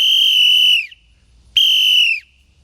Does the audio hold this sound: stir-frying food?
no